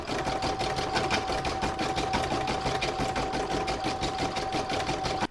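An embroidery machine stitches a snowflake in silver thread on a snowman coaster design, a steady fast mechanical chatter that runs loud and close without a break.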